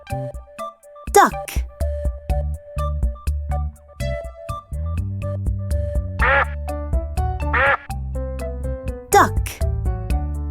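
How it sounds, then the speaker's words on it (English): A duck quacks in several clear, nasal bursts spread across the clip, close and loud, mixed with short spoken words in between. "Duck."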